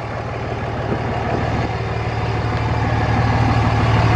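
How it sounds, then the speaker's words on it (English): Diesel 2007 Dodge Ram 2500 Big Horn with a 5.9L Cummins and muffler delete idling steadily, a deep throaty rumble that stays loud and close and continuous, with no speech. "The truck sounds good with a muffler delete."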